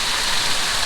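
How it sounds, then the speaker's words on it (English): Water from a waterfall pours and splashes all around and overhead, a dense, steady hiss of falling spray heard up close for a brief moment, with no voices. "we are under the waterfall now"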